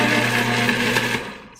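Food processor mincing garlic for Puerto Rican sofrito, a steady loud motor whir with blades chopping for over a second, then winding down to silence as it stops.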